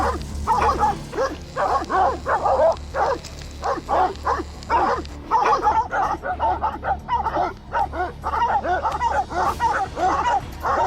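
Hunting dogs used on wild boar, breeds such as pit bulls, blackmouth curs and Plott hounds, bark and yip continuously over a steady low rumble, with several dogs overlapping in dense, excited bursts at moderate distance.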